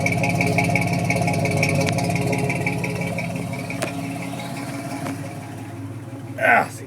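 A 1964 GMC truck with a newly fitted exhaust, idling up close with a steady, even burble throughout and a brief sharper noise near the end.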